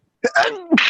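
A single sharp sneeze, close and loud, with a quick breathy intake leading into it.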